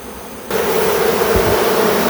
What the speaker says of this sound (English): they're just pretty much behaving like a regular swarm